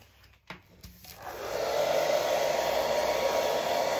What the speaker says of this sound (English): Drying it now with the hairdryer.